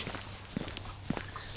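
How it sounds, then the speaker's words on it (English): Footsteps crunch softly on a packed-down dirt trail at Windy Hill Preserve, a few scattered, fairly quiet steps over faint outdoor background. "If my footsteps sound kind of different, it's because this trail is so packed down."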